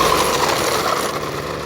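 A string trimmer fitted with a new cutting attachment runs steadily at close range, a loud, dense, continuous mechanical whir with a rattling edge and no speech.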